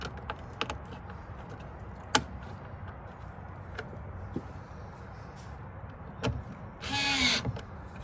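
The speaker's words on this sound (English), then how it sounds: "Screw them in one by one." Rear door speaker screws are driven in one at a time on a 2019–2020 Hyundai Elantra, giving sparse close clicks and taps. A short whirring burst of a driver comes near the end over a quiet background.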